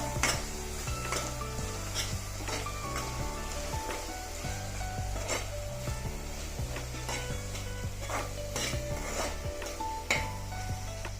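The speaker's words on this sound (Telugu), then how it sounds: "ఇప్పుడు ఇందులోనే ఒక్క స్పూను అల్లం వెల్లుల్లి పేస్టు వీటితో పాటు ఈ పేస్ట్ను కూడా వేగనిద్దాం" Ginger garlic paste sizzles steadily in oil in a pan while a utensil scrapes and stirs it repeatedly, over a sustained tonal background.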